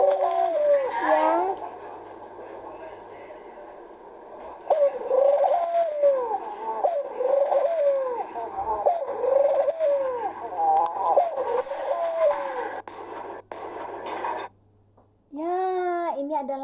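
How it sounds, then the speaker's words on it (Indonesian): Repeated soft, throaty cooing of a pigeon, close and rhythmic, in a series of rolling calls with faint background hum. "ini adalah suara merpati"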